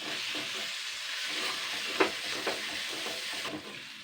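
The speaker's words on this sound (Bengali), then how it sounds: "দুই মিনিট ভাজা হয়ে গেছে আলুটা" Potatoes frying in a pan for an aloo snack, a steady close sizzle with a few louder pops and stirring scrapes, no talking.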